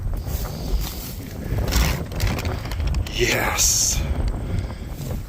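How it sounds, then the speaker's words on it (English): Steady breezy wind blowing outdoors near a brand new 2025 Freightliner truck, a constant rumbling gusty roar over the microphone, with a voice speaking briefly. "It's a little breezy out today."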